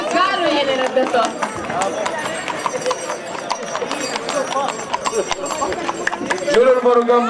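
Horse hooves clip-clop repeatedly at a traditional horse Easter festival in Târgoviște, close and fairly loud, with an announcer's voice and crowd chatter over them.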